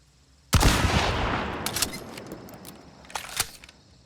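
A Romero 77 Alamo shotgun in Hunt: Showdown fires once with a loud, close boom that rings out, followed by a few sharp mechanical clacks as the gun is cycled, with no voices.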